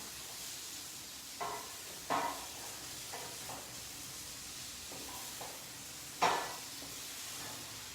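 Mango-marinated paneer tikka cooking in a pan gives a faint, steady sizzle with a few soft clicks of stirring, the food sounding alone and fairly quiet.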